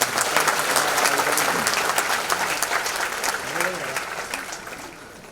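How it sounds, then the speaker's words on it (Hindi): Loud applause from the audience at an awards ceremony honouring the Mangeshkar family, a dense burst of clapping that gradually thins and fades toward the end, with a voice or two calling out within it. "उसके लिए एक जोरदार ताली हो जाए।"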